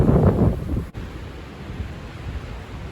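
Cold, fast wind buffets the microphone on a sunny day at Wreck Beach, a loud rumbling roar that gusts hardest in the first second, then settles into a steadier rush.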